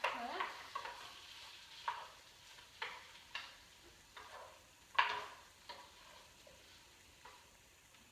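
Food for a toasted rice bowl cooking in a pan, a faint steady sizzle broken by soft rhythmic stirring scrapes every second or so, close and quiet.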